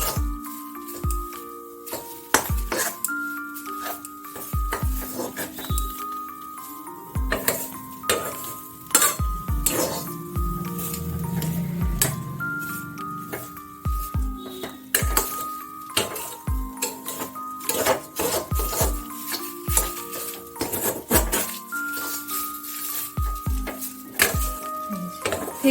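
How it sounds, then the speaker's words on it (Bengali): Flour dough being stirred constantly in a pan on the stove, with busy metallic scraping and clinking of a utensil against the pan, continuous and close, along with a faint sizzle and no talking. "এটা শক্ত না হওয়া পর্যন্ত কিন্তু কনস্ট্যান্ট নেড়ে যেতে হবে"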